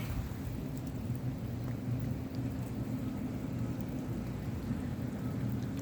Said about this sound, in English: And then now it's hailing again.